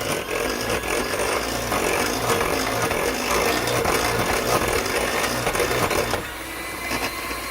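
An electric mixer beats banana bread batter with vanilla, giving a loud, steady motor whir that runs unbroken and eases slightly toward the end.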